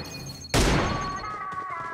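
Automatic gunfire in the mobile battle-royale game PUBG Mobile, a sudden loud burst that bursts in after half a second, then a ringing tail with lighter rapid shots trailing off.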